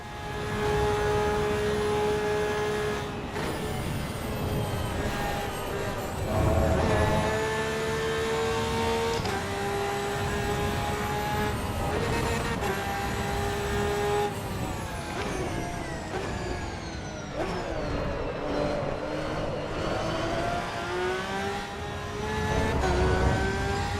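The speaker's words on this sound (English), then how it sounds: "the sound of the boxer 6-cylinder" A boxer six-cylinder car engine in the racing game Assetto Corsa EVO, driven at the Nürburgring, revs up and down continuously with rising and falling harmonic tones, loud and sustained through gear changes.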